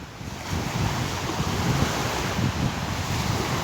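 Sea waves and wind at the seaside in Urla, Turkey: steady rushing surf with gusty wind buffeting the microphone, continuous and fairly loud, no talking.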